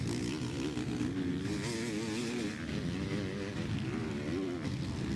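Motocross bikes racing in the MX Nationals Fastest 40 moto at Cusses Gorse, including a Husqvarna and a Honda, roar continuously with revving, shifting engine pitch throughout, steady and loud with no pause.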